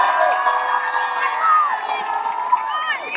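A crowd at a citizens' demonstration against Dieudonné and antisemitism cheers and shouts, with loud whoops and raised voices layered over one another in a continuous, lively roar.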